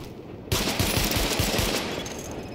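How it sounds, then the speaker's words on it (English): Sidearm fired at highlighted targets during a weapon test in the video game Tom Clancy's The Division, a sudden loud shot followed by a quick string of rapid, punchy reports over a dense, noisy backdrop. "Open fire at the highlighted targets."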